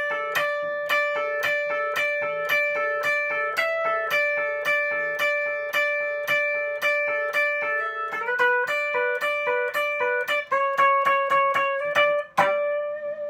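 Lead guitar playing the chorus part of a song as a clean, bright picked line of evenly spaced repeating notes that shift pitch through the phrase, heard alone.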